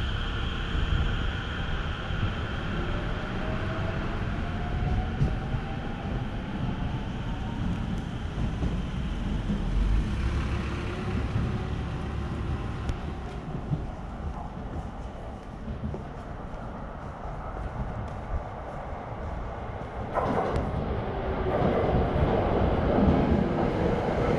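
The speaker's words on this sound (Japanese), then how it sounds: "まもなく1番線に各駅停車三鷹行きが参ります" A local train rumbles steadily into Higashi-Funabashi Station in Japan, wheels and motors droning loudly and shifting pitch as it slows; no clear voices.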